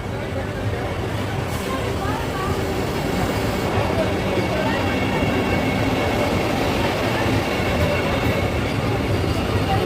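A Vande Bharat express runs past at a station platform, a loud continuous rumble and rattle of wheels and carriages that holds steady throughout, close by.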